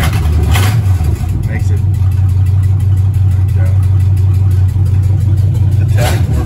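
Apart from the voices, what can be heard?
1965 Chevrolet Malibu V8 engine with ticking exhaust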